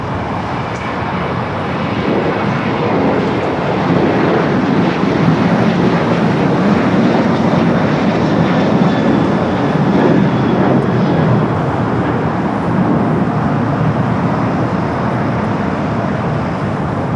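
An American Airlines jet roars down runway 25 right at LAX on takeoff, a loud, sustained broadband engine rumble that holds steady throughout with no talk.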